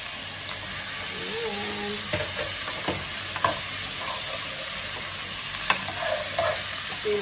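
Vegetables frying and being stirred in a pan of cooked garlic for milkfish in coconut milk, a steady loud sizzle broken by scraping stirs, with a brief spoken word.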